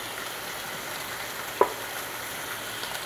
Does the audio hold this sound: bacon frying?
yes